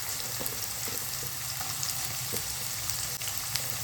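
Carrots and beans fry in a pan with a steady, close hiss and crackle of sizzling oil, an even texture dotted with small pops, and no talking over it.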